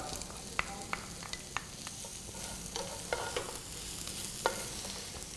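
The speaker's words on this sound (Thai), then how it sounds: "เราก็จะใส่ กระเทียม ซอยลงไปครับ เจียวให้หอมดีนะครับ ตามด้วยเห็ดหอมที่เราเตรียมไว้ครับ" Sliced garlic and shiitake mushrooms stir-frying in hot oil in a pan, a soft steady sizzle with scattered light clicks of a utensil against the pan, fairly quiet and without talk.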